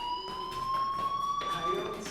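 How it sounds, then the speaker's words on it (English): A fire alarm in the video game Life is Strange rings as a steady electronic tone, continuous and fairly loud, while faint background sounds run beneath it. "do you hear that fire alarm? That means you should be outside."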